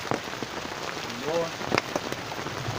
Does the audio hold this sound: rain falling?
yes